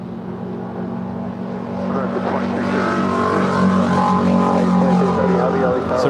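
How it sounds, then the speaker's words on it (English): A Delta Airlines Airbus A321 from Minneapolis landing on runway 25 left at LAX makes a rising jet engine roar that grows louder and closer, with voices talking over it. "Delta Airlines Flight 2089 coming in from Minneapolis. It's an A321."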